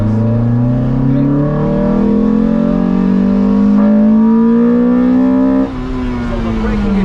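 A Lotus sports car's engine drones and revs from inside the cabin, its tone climbing steadily for several seconds before a gear change drops the pitch near the end.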